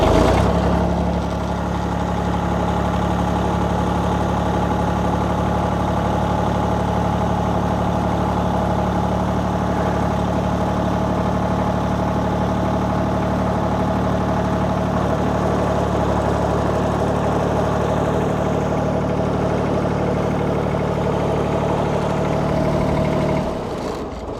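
A John Deere 855 compact tractor idles steadily and close by for the whole stretch, its even engine drone barely shifting as the loader hydraulics are worked, then cutting off abruptly at the very end.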